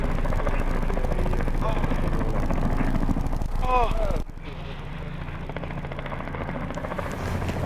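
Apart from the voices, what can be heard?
small helicopter flying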